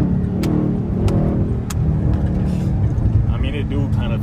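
Supercharged car engine revving on a downshift, a continuous mid-pitched engine drone inside the cabin with people talking over it throughout.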